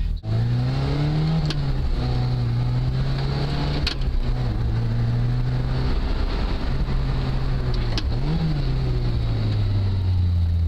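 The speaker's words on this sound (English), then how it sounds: "You're in the cabin, it gets really noisy." Lotus Elise engine heard from inside the cabin while driving, a loud steady drone that rises and falls as the revs change and gears shift, with no voices over it.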